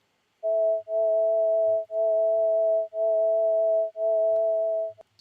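Synthesized harmonic tones shaped to an O-like vowel quality sound as five steady, evenly spaced beeps of a pure hum with short gaps between them, clean and alone.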